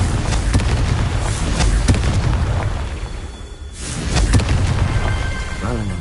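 Repeated booming fire-spell blasts from the Confringo spell in Hogwarts Legacy burst loudly in quick succession over a rumbling background, with a brief lull before more blasts.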